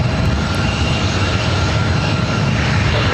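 A SkyWest CRJ 700ER regional jet flying Delta Connection at LAX makes a loud, close, continuous engine roar with broad rumble and no breaks.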